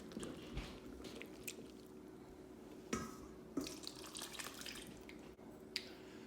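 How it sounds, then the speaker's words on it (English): Water for a rustic bread dough is poured into a bowl in a home kitchen, a soft, faint splashing trickle with a few small plops and clinks, close by and without talk. "I'll pour the water that'll go into the final dough into this"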